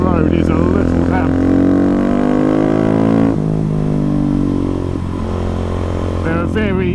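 A heavily modified KTM 690 SMCR single-cylinder motorcycle engine revs hard on a damp hill-climb road, its pitch sweeping up then dropping, loud and near, with a voice talking over it.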